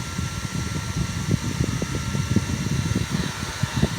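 A handheld rechargeable Goojodoq turbo mini fan whirs nearby with a steady motor hum and fluttering airflow, running continuously without voices.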